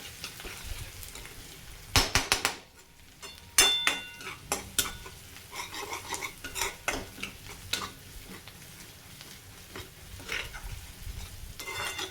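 Spatula scraping and stirring capsicum (shimla mirch) with garlic paste in a pan, a steady run of clattering strokes over a soft continuous sizzle, close and fairly loud, with no one talking.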